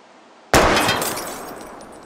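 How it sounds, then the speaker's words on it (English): Gunshot striking a wheel rim in the Life is Strange video game, a single sudden loud crash with a bright shattering metallic ring that decays over about a second and a half, alone. "Taking out the wheel rim now?"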